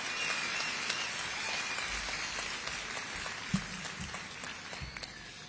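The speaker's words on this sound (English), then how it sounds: "Please help me give them a round of applause, y'all." A large graduation crowd applauds steadily for the event staff at a high school commencement, a dense, even patter of many hands that sounds somewhat distant and fills the whole stretch.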